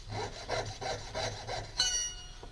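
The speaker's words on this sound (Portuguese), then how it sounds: "Aí nós vamos pegar o meu fio. E serramos." A saw cuts through a metal wire in quick, rhythmic back-and-forth strokes, close and fairly quiet, ending in a brief metallic ring.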